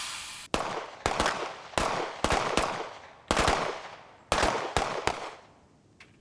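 Gunshots at a shooting range target, fired in quick doubles and triples: a series of sharp, loud cracks, some spaced apart and some in tight pairs, each with a short echoing decay, no talking.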